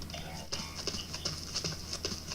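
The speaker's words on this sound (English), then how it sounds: "Double footsteps. So it seemed like somebody is walking behind you, man." Footsteps tap in a fairly regular rhythm as a player walks backwards in the shooter game Blacklight: Retribution, each step doubled into a quick pair of soft thuds over a quiet game-ambience hum.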